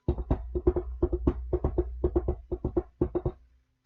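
A voice imitates a horse with rapid mouth clicks and cheek slaps, clopping in a galloping rhythm for a few seconds before stopping.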